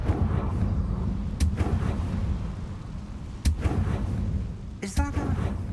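A Confringo spell blast in Hogwarts Legacy, heard as a few sharp loud cracks with booming low rumble spaced through the clip, set against steady low game ambience, the last burst trailing into a ringing magical shimmer.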